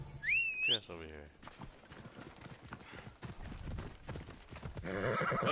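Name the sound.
horse galloping and neighing in Assassin's Creed Odyssey video game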